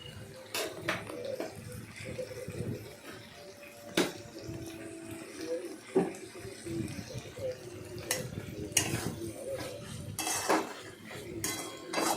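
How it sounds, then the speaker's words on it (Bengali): A spoon stirs sugar into a pan of water spinach stem curry, producing repeated metallic scrapes and clinks against the pan over a low background, loose and uneven in rhythm. "ভালো করে নাড়াচাড়া করতে হবে।"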